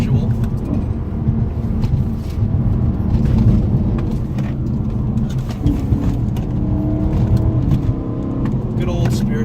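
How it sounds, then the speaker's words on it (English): BMW M3 E90 engine under spirited driving with paddle-shifted gear changes, a steady loud low drone with surges and brief dips between shifts, continuous throughout. "I am using the paddle shifters now, which are shifting me much quicker than usual."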